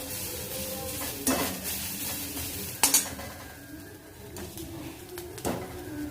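Sautéing ingredients for a chickpea sundal in a pan, with a steady sizzle under several sharp scraping stirs of a spoon against the metal, close by and fairly loud.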